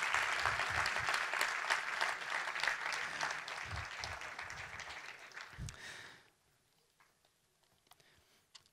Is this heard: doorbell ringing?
no